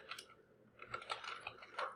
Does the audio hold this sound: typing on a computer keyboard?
yes